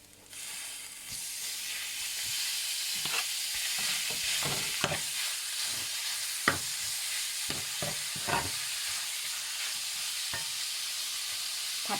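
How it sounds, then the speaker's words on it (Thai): Thai red curry paste stir-fried in a pan for a red pork curry, a soft continuous sizzle and hiss with scattered scraping clicks of a spatula, fairly quiet and without talk. "เดี๋ยวผัดพริกแกงให้หอมก่อน"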